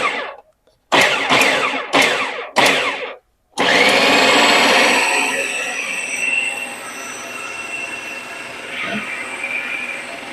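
A blender whirs through cottage cheese chocolate mousse, starting with several short pulsed bursts before settling into one loud steady high-pitched run that slowly eases off.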